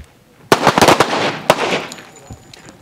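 Pistol gunshots ring out on an outdoor firearms training range: a quick burst of several sharp, loud reports followed by one more shot, then fading echo.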